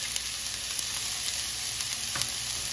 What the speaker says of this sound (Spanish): Ya tenemos aquí el sartén con el aceite caliente.